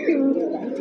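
A single brief, low throaty coo comes from a female pigeon held close by, loud and very short.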